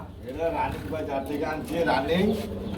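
Pigeons at a market stall cooing in soft, repeated low rolling calls close by, under steady Bengali conversation throughout.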